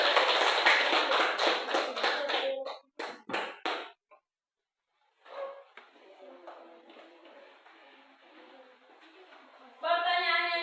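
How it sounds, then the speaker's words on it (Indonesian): Applause in a classroom: a burst of brisk, crowded hand clapping that thins into a few scattered claps and then stops. Quiet murmuring follows, and a second round of clapping starts at the end. "Oke, kita beri aplaus."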